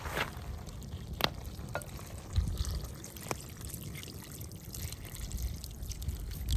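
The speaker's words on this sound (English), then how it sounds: "Now we're gonna add the broth." Broth pours into a Guinness lamb stew in a pot as a low, continuous liquid rush and trickle over a faint sizzle. A few scattered knocks and clinks sound close by, with no talking.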